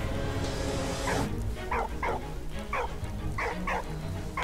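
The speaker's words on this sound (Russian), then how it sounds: "Кого лаешь-то?" A dog in the Valiant Hearts video game barks repeatedly in short, sharp yips over a constant rumbling background, about seven barks spaced unevenly across a few seconds, moderately close.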